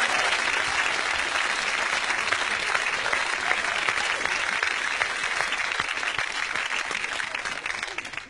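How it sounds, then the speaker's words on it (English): An audience at a stage show breaks into sustained, dense applause that stays loud and even for several seconds before tapering slightly at the end. "a big round of applause for Alan, yes?"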